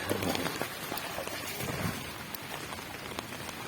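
Steady rain patters on surfaces nearby, a dense hiss of drops with occasional louder splats, continuous throughout.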